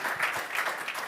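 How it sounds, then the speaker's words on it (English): Conference audience applauding after a talk on a studio stage, a soft, distant patter of many hands that stays fairly faint and even throughout. "A round of applause, please"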